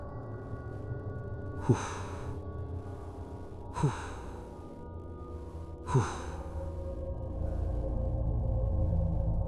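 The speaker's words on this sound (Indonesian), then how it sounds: "Nafas panas itu lagi. Makhluk itu sedang mengendus." Three slow, heavy breaths or snorts at even intervals, each a short airy burst, over a low rumbling background.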